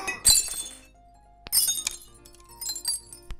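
Scotch glasses shatter with sharp glassy crashes in the I am Bread video game, two loud breaking bursts followed by scattered clinks and tinkling shards, with a lower sustained tone in between.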